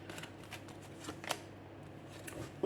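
Oracle cards being shuffled and drawn, quiet riffling and soft flicks of card stock at close range, a few sharper slaps, with no talk.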